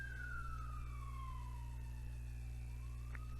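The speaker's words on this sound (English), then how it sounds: "there's the ambulance" An ambulance siren passes outside, a faint wailing tone sliding downward in pitch as it moves away. It sits over a loud, steady low hum from a nearby engine or machine, with no talk.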